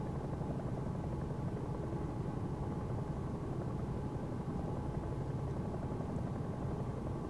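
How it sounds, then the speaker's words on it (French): A CowanSim 22UT helicopter in the X-Plane flight simulator, its rotor and turbine drone steady and continuous throughout, fairly soft, with a rhythmic blade chop and no talking. "Alors c'est un hélicoptère qui est franchement très agréable."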